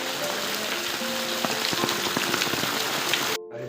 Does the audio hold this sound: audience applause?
no